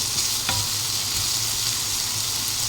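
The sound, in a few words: garlic frying and being stirred in a pan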